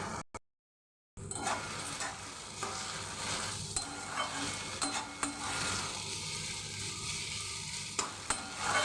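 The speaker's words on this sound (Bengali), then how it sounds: "এখন আমি এই চিকেনগুলো কষানো মশলার মধ্যে দিয়ে দিলাম" Chicken pieces fried and stirred into sautéed masala, a soft steady sizzle with repeated spatula scrapes and clatter against the pan, nearby but fairly quiet, no speech.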